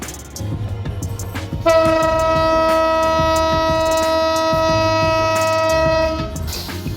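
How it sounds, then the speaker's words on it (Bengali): A Rupsha Express train hauled by an American 6600-series locomotive passes through Panchbibi station, sounding a long, loud, steady horn blast of several seconds over the engine's low rumble and wheel clatter. "রূপসা এক্সপ্রেস পাঁচ বিবি রেলওয়ে স্টেশনের দুই নম্বর লাইন দিয়ে থ্রু পাস করে চলে যাচ্ছে সিলাহাটি অভিমুখে"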